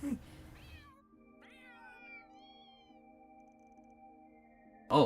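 Cats meowing in Old Town in the video game Daybreak 2, several drawn-out, wavering meows overlapping at close range over a steady low hum, with a brief burst of other sound at the start and end.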